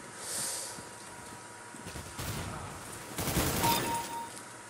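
Gunfire in the shooter game CS:GO crackles in a few faint, distant bursts, more concentrated toward the end, over a low background with no clear voices.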